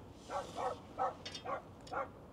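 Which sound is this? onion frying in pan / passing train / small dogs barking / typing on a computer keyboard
small dogs barking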